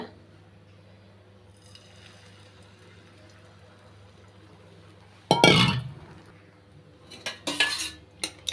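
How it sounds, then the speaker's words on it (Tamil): Beaten egg omelette batter hits a hot dosa pan in a sudden wet sizzling rush, surrounded by light metallic clinks of utensils against cookware over a steady low hum. "இப்போ வந்து ஆம்லெட் வந்து நம்ம ஊற்றி எடுத்துக்கலாங்க"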